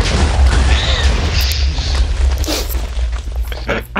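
A TNT explosion in Minecraft, a heavy low boom that rumbles and fades over a few seconds, loud and close, with scattered debris and game sounds trailing after.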